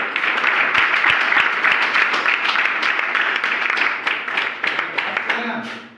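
A class of students claps together in a spoken English lesson with dense, steady applause. A voice comes in under the clapping as it tapers off at the end.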